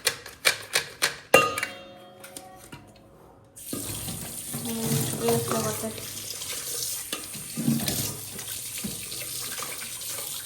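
Water gushes steadily from a kitchen tap into a sink for cooling potatoes in ice water, loud and close, after a few sharp knocks and clatters of a bowl at the start, with no talk.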